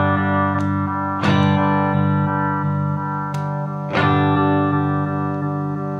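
Electric guitar through a Deimel Firestar amp with the LesLee Synchronizer in stereo mode, ringing sustained chords with a few sharp strums, swirling and full, steady and close with no voices.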